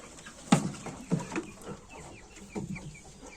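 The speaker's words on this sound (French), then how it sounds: "Ça c'est le coq hollandaise." A Dutch rooster and hens cluck in a few scattered, separate calls, close by, with quiet background noise between them.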